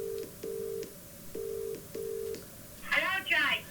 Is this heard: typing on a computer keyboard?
no